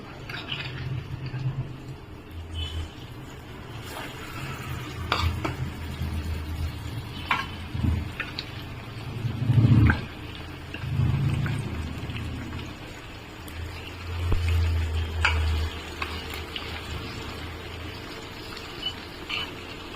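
Fish pieces fry in a pan with a soft, steady crackle like light rain, broken by a few louder pops and low bumps from the pan, and no voices.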